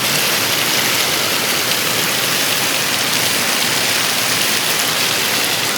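Heavy afternoon rain in Ahmedabad pours down in a dense, unbroken roar of hissing water, loud and constant throughout with no voices.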